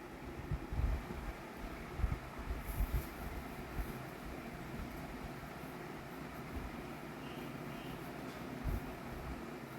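Nilgiri Mountain Railway train climbing uphill toward Ooty: a quiet, continuous low rumble with windy noise and a few soft thumps of the carriages, heard from on board.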